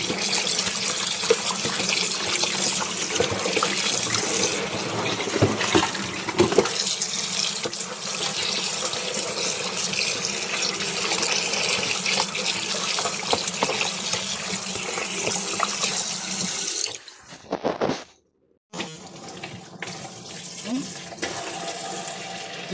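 Raw chicken washed under a running kitchen tap makes a loud, continuous gush of water splashing into the sink, which breaks off briefly near the end before resuming.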